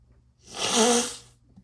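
A single person sneezes once, a short sharp burst rising and fading within about a second, close to the microphone with quiet surroundings.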